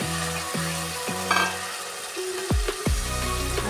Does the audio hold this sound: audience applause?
no